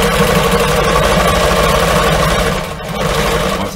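A sewing machine stitching a pillowcase toward the corner, a loud continuous close motor whir with a rapid steady needle rhythm, briefly easing near the end.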